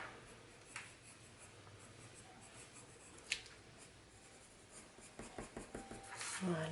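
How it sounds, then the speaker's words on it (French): Colored pencil strokes on paper while shading hair, steady scratchy rubbing with quicker short flicks near the end, close and moderately loud. "on appuie, on jette le crayon dans le sens qu'on veut aller"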